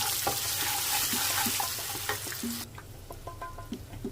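Tempering seeds fry in hot oil with salt, turmeric and asafoetida, giving a loud, close sizzle with stirring clicks that drops abruptly to a quieter crackle partway through.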